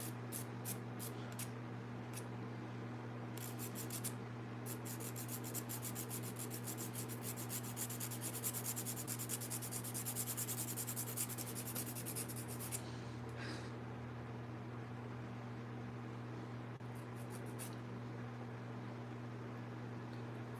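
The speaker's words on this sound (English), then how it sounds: "Or at least I'm getting it filed down to where it looks a little more natural" Rapid rhythmic rasping of a file across an acrylic nail comes in close, bursts of fast strokes separated by pauses, over a steady low electrical hum.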